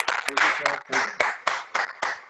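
A small audience at a sales orientation training gives a leader a round of claps, in short bursts, close and fairly loud, with voices mixed in between.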